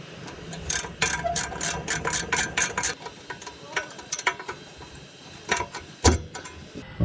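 Pipe grips tighten the suspension of a rusty EK3 Honda Civic, giving bursts of rapid metallic ratcheting clicks in quick runs, then sparser clanks and knocks, all close up with no talk.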